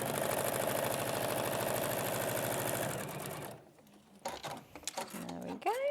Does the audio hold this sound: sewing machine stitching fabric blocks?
yes